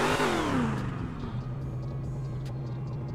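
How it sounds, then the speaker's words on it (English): A Dodge Hellcat in GTA 5 blips its engine, a loud rev that falls in pitch and then settles into a steady low idle rumble, close by with faint clicks over it. "I'm just revving right now."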